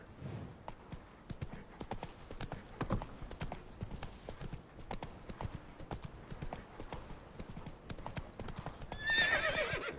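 A horse in The Witcher 3 gallops with a fast, steady clip-clop of hooves throughout, ending with a short neigh, moderately loud and mostly alone.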